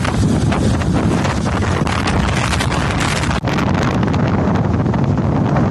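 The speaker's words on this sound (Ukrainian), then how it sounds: "нині там штормить" Stormy wind buffets the microphone at a bay in Sevastopol, a loud continuous roar with gusting rumble that does not let up.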